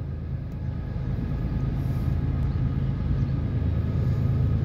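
A northbound CSX mixed manifest freight train rumbles past on track one, a steady low roar of rolling wagons and wheel noise with a faint higher squeal above it, and no talk.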